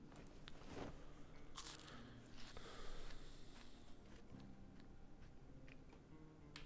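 Crisp crunching bites repeat irregularly, close and fairly quiet, like food being chewed, with no talking; eating in the video game Project Zomboid.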